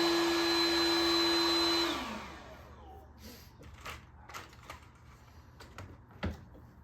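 1953 Fedders vintage room air conditioner with a Tecumseh compressor running with a steady whirring drone and a tonal whine, then shutting off, leaving scattered clicks and handling noises.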